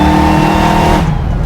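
Hellcat-swapped Plymouth Cuda pro-touring build with a 707 hp engine, pulling hard under full throttle: a dense, loud engine roar with layered harmonics that holds steady, then eases off near the end, with no talk.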